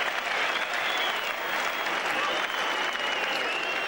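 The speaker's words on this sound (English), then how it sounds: "The crowd really appreciating" Cricket crowd at a 1988 Australia v West Indies Test in Brisbane applauding a boundary, sustained loud clapping from a large stadium audience that holds steady throughout.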